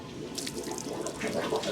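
Water surges up through a sink drain during a household sewer backup, a short burst of gurgling, sloshing liquid that swells after a quiet start, close and without talk.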